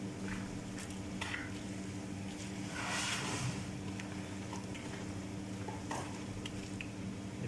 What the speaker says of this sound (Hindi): या अब हम इसको इस तरीके से मिक्स करेंगे अच्छे से।